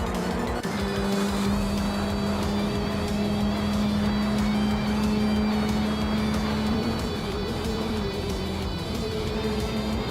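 Race cars in a racing video game drone on continuously, with a steady engine hum and a sustained tone that holds for several seconds under a constant, fairly loud roar.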